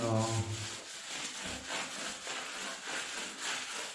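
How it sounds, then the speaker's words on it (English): A sponge scrubs mosaic tiles during cleaning, giving steady, rhythmic rubbing strokes that repeat closely and evenly with no voices, opening with a short low hum. "if you will rub a larger area, the sponge will be dirty right away"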